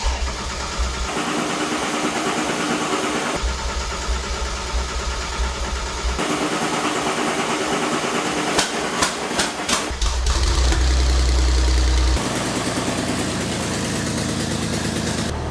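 A rebuilt engine in a previously totaled Porsche idles after its first start, a loud, steady mechanical hum with a rhythmic throb, close by, the tone shifting in distinct stretches as it runs without any voices.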